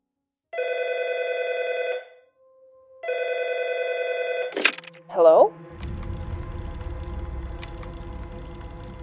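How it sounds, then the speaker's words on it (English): A telephone rings inside a home in two long electronic bursts with a pause between, followed by a sharp handset clatter and a low background hum. "That evening, Sue received a troubling phone call from a friend of Bob's daughter, Claire"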